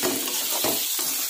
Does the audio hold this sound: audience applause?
no